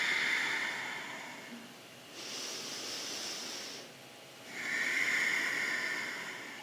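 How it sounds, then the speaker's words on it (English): Slow, deep breaths during a yoga session, each long airy exhale and inhale swelling and fading in turn, close and soft, alone without speech. "Deep breaths."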